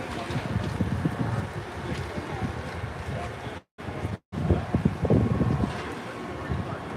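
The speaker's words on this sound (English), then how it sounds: "We're gonna go inside because I want to get out of this wind so you're not hearing." Loud, rumbling wind buffets the microphone almost continuously, broken by a brief near-silent dropout midway.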